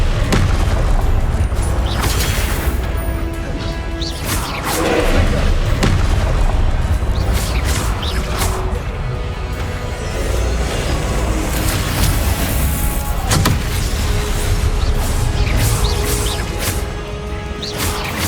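Confringo fire spells blasting in the Hogwarts Legacy game, heavy booming impacts and crashing bursts repeating over a loud, continuous battle din, with no speech.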